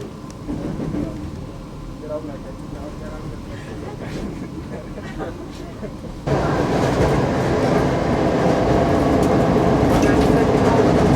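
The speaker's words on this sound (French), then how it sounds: "je suis dans le train sans doute le plus moderne que j'ai pu prendre en Roumanie" Interior of a moving train in Romania, a steady rumbling roll with rail clatter that grows noticeably louder and brighter about halfway through, as if a door or window opened, with faint talk mixed in.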